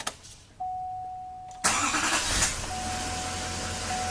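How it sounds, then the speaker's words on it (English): A 2013 GMC truck engine cranks briefly and then catches, settling into a steady loud idle close by, with a whistling tone running through it. "So I'm going to go ahead and start it so that we can show you how to perform this test."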